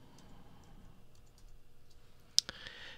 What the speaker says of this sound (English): I'm going to type the word in caps,